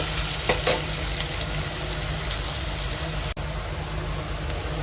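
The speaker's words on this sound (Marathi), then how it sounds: "कांदा टाकून घेऊया. कांदा चांगला ब्राऊन होईपर्यंत" Onions frying in a pan while cooking tiny shrimp, giving a constant dense sizzle with a brief clatter of stirring near the start and a short sharp break later on, no talking.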